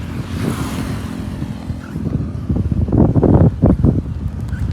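Steady wind from the nearby sea buffeting the microphone, a rough rushing roar throughout, with louder gusts toward the end.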